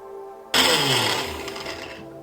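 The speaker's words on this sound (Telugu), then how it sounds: "మళ్ళీ ఇదంతా మిక్సీలో వేస్తున్నాను" An electric mixer grinder starts abruptly, whirring loud and close as it grinds moringa leaves with a roasted spice powder, then spins down after about a second and a half.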